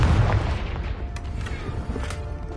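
A Confringo fire spell explodes in Hogwarts Legacy: a loud, deep boom hits at the start and then fades into a rumbling tail that lasts the rest of the moment.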